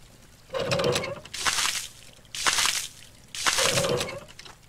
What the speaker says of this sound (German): Ja, kommt noch Wasser raus.